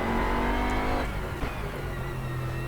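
A Bentley Continental GT3 race car's V8 engine in a racing video game roars continuously at high revs, briefly dropping in pitch as it shifts gears, loud and close with no talking.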